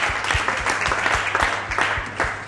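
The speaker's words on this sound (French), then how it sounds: "Et on l'applaudit très fort." An audience claps loudly for a performer, close, busy clapping with a few distinct sharp claps standing out.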